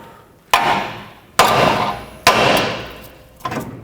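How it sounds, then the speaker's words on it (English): A hammer strikes the steering knuckle of a 2009-2013 Honda Fit to free the outer tie rod: four sharp metallic blows about a second apart, close and loud, each ringing out and decaying, the last one lighter. "Then with a hammer on the knuckle right here."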